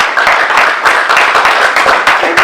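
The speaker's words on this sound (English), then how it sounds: "So let's give him a round of applause." Dense, steady applause and clapping from a dinner audience at a 2023 graduation celebration for a student named Oscar, many hands beating together continuously and loudly with no talk over it.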